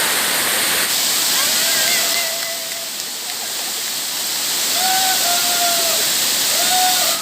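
Khali Khola waterfall in Sikkim gives a steady, loud broadband rush of falling water, close and continuous, with a few high bird whistles cutting through the roar.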